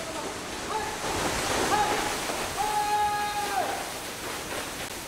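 A waterfall at a mountain Shugendo site in Savoy gives a constant broadband rush, with faint tonal sounds drifting over the water noise.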